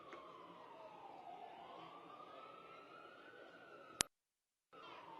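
An emergency vehicle siren wails faintly in the distance, its pitch rising and falling steadily through crowd ambience at a street march, then cuts off abruptly.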